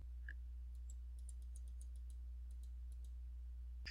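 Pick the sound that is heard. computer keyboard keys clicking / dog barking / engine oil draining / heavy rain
computer keyboard keys clicking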